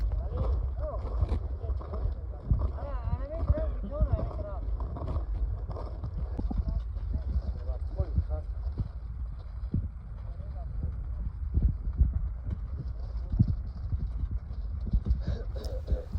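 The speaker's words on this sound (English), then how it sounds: "You can see the donkeys here starting to punch through the snow." Donkeys of a shepherd caravan plod steadily through snow on a mountain journey, repeated muffled hoof steps punching through with a crunching rhythm, under light wind and occasional voices in the background.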